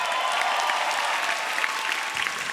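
A stand-up comedy audience applauds with dense, steady clapping that fills the room evenly, loud and sustained with no voices over it.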